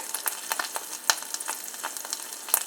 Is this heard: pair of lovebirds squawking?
no